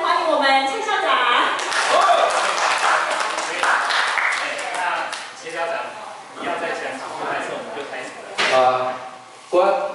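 An audience at a Lions Club talk claps warmly to welcome a school principal, a dense, sustained patter of applause that fades gradually while voices speak over it.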